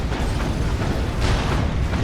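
Nuke detonations in the strategy game Dawn of War 2, a loud rumbling blast with deep sustained low-end roar and a second surge of crackling impact about halfway through.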